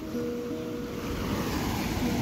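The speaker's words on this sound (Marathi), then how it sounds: "नदीच्या पाण्याला खूप फोर्स सुद्धा आहे" A Konkan river swollen by a cloudburst flood rushes strongly past near the Chinchghar bridge, a dense continuous roar of moving water mixed with wind buffeting, steady and fairly loud with no talking.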